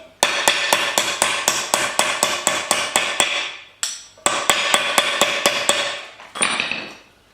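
Hammer striking a rusted circlip on a Discovery 3/4 rear wheel bearing, a rapid series of sharp metallic blows in two runs of about a dozen each, then a couple of final taps, close and loud with no talking.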